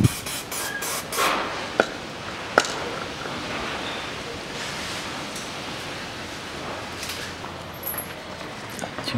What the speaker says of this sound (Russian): Смазываю болты.